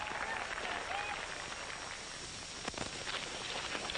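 A crowd cheers and claps at a 1940s Western contest, a dense continuous roar of applause and voices that sounds distant and hissy like old film audio, with a sharper burst near the end.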